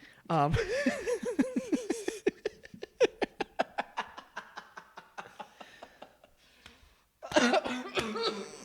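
A voice imitates a harsh coughing fit: one gasping burst, then a long run of sharp, rhythmic coughs that fade, followed by another loud burst of coughing.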